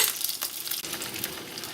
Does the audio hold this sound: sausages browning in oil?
yes